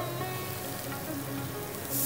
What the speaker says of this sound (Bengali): কড়ার মধ্যে জল দিয়ে জলটাকে কিরমভাবে ফোটানো হচ্ছে